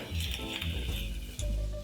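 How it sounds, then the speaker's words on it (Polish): Carrot sizzles and crackles steadily in a hot pan, with a few soft clinks of a utensil stirring close by. "pamiętajcie, że smaży wam się marchewka w tym momencie"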